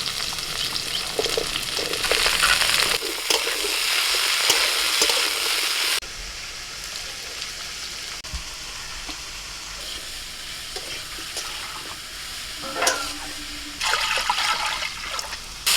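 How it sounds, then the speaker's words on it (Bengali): Pumpkin, beans, papaya and carrot frying with potato and cauliflower in a pan for khichuri, a loud sizzle with stirring scrapes that drops to a quieter simmering hiss midway, then swells again near the end; no speech. "সব সবজিগুলোকে একটু হালকা করে ভেজে নিয়েছি"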